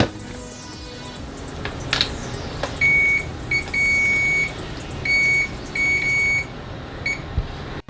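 ANENG A3004 pen-style multimeter giving its continuity-test beep, a shrill electronic tone sounding in several short bursts of varying length against a low background hum.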